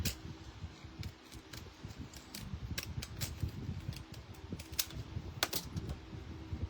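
Decorative paper-crafting scissors snip through paper pages cut from a children's book, making close, repeated crisp clicks and crunches at an uneven pace over a faint background hum.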